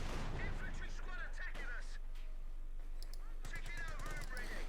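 Rapid machine-gun and rifle fire crackling in bursts in the Company of Heroes 2 strategy game, sharp repeated shots over a low rumble, with a voice commentating under the fire.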